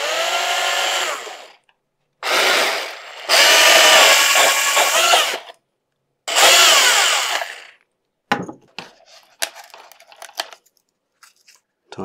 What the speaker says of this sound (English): drill out this hole in the centre for the air to pass